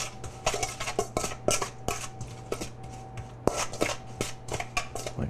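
Kimchi ingredients are mixed with fish sauce in a bowl, making a steady run of clinks, taps and scrapes of utensil against bowl. The sounds are close and fairly even, with no talking.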